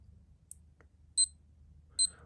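An SKM digital watch gives short, high electronic beeps: a faint blip, then two brief bright double beeps about a second apart, over a quiet low hum.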